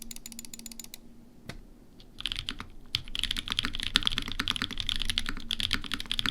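Rapid clacking of keys on an AL6 mechanical keyboard. A few quiet taps and one sharp clack come first, then a dense, steady run of crisp keystrokes builds and continues, close and clear.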